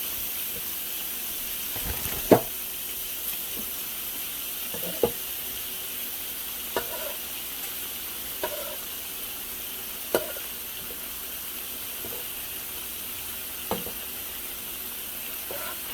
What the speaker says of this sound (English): Panning my steak.